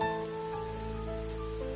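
A heavy cartoon rain shower pours steadily in a horror story, a constant hiss of drops over a sustained low musical tone, with no voices.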